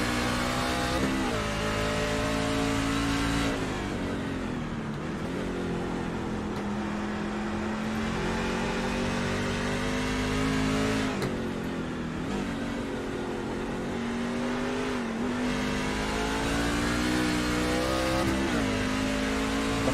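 Racing trucks roar steadily around an oval track, loud and continuous engine drone with rising and falling pitch as they accelerate and pass, no talk over it.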